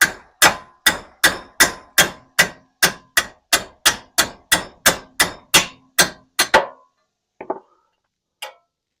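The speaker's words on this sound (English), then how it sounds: "because I'm hammering, I'm going to make sure that it is not breaking your tool" Hammer blows on the ball joints of a 1996 Jeep XJ being fitted with Spicer ball joints: about seventeen loud, sharp metallic strikes in a steady, quick rhythm, then a pause and a few lighter taps and a faint clink, close and with no talking.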